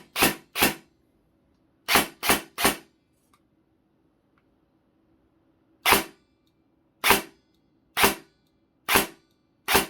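Ares 308L airsoft DMR rifle firing single semi-auto shots, loud sharp cracks spaced irregularly across the stretch with quiet gaps between, no voices.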